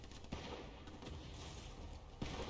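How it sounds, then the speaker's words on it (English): Gunfire in the Fortnite video game crackles as a dense continuous barrage, with a couple of sharper shots standing out, all fairly faint and with no talking. "You're trying to shoot at me."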